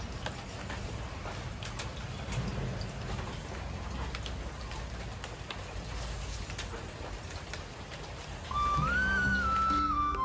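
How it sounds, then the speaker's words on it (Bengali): Monsoon rain falls steadily outside a mud-walled hut, making a soft, even patter of drops. Near the end a short whistling bird call rises above the rain. "বৃষ্টিটা কিন্তু ভালোই ঝিমঝিমানি বৃষ্টি পড়ছে।"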